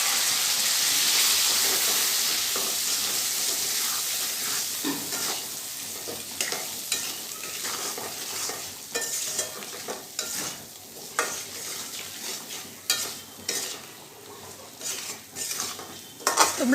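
Raw cut potatoes fry in a pan for a green jackfruit curry, with a hissing sizzle under repeated metal spoon scrapes and clanks against the pan that grow busier and more rhythmic toward the end.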